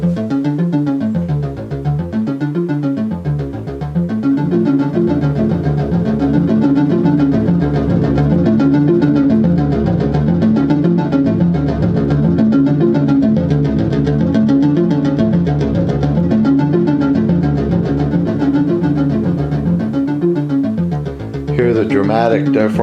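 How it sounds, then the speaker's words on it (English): A Behringer DeepMind 12 synth sequence plays loud and continuous, its repeating arpeggiated notes rising and falling, run through ping pong delay from a Mackie PROFX10V3 mixer, with no one talking. "What you're hearing is a sequence running from the Behringer DeepMind 12."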